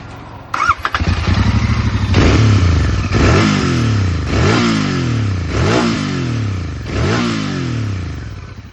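A Royal Enfield GT650 twin on its stock exhaust starts up and revs repeatedly, each throttle blip rising and falling in a steady rhythm of loud, close engine bursts with no talk.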